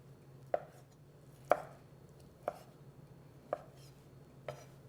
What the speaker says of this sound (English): I'm going to begin by chopping up this lamb